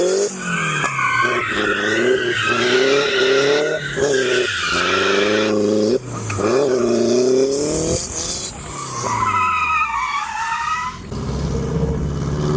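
A wrecked Mazda Miata rebuilt with a custom one-off metal widebody squeals its tires loudly and continuously, the pitch wavering and sliding as it drives, with engine noise underneath and no talking.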